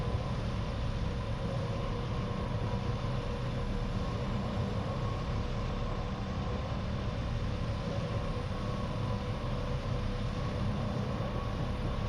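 A steady, droning rumble of a train in a train simulator game on the Western Lines of Scotland, constant and unbroken with no distinct passing peak, with no voices.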